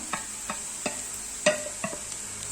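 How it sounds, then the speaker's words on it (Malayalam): Garlic ginger paste frying with onions in a pan for chicken tikka biryani, a few sharp stirring scrapes at regular intervals over a soft steady sizzle. "ഇനി അതിലേക്ക് വെളുത്തുള്ളി ഇഞ്ചി പേസ്റ്റ് നമുക്ക് ചേർത്ത് കൊടുക്കാം."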